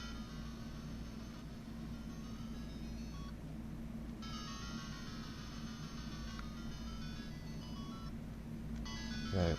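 A WonderSwan Color handheld console in Pearl Blue, with a worn power button, plays its startup chime: bright electronic tones over a steady low hum, with a short gap near the middle and a brief rise at the end.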